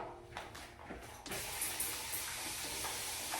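Water sprays and hisses in short bursts, then runs continuously, soaking short curly hair up close at fairly low volume with no voices.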